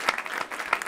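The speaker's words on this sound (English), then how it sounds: "Round of applause for those two clips," A short burst of clapping from a studio audience at a comedy cast chat, close and uneven, with a couple of sharper accents within less than a second.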